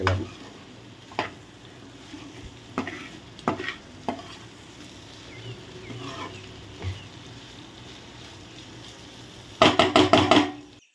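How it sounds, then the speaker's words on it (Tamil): Food sizzles quietly in hot oil, broken by occasional scrapes of a spatula, then a quick burst of vigorous stirring near the end, as blood fry is sautéed. "சேர்த்து எல்லாத்தையும் நல்லா வதக்கிக்கிறோம்"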